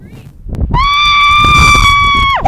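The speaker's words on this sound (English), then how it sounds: "what if I scream?" A person gives one loud, sustained scream lasting nearly two seconds, steady in pitch and close up, ending with a short drop, after a brief moment of quieter sound.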